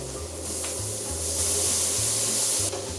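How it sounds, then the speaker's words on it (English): Calamari and shrimp hit a hot pan of caramelizing onion, setting off a loud, steady sizzling hiss that holds for a few seconds with no talking. "Now I'm adding my calamari and my shrimp."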